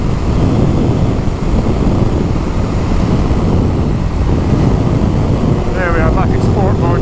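A 2016 Ducati Multistrada 1200 DVT ridden in sport mode gives a steady, loud engine drone buried in heavy wind rush, with a brief whining note near the end.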